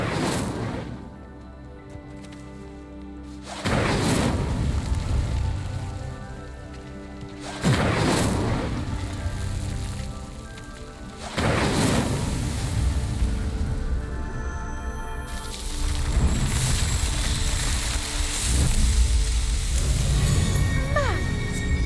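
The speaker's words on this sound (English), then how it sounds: "Clearly, all three of these pyres are meant to be lit. Incendio!" Incendio spell lighting pyres in the Hogwarts Legacy video game, three loud booming whooshes of flame in succession with crackling fire and a swelling music score underneath.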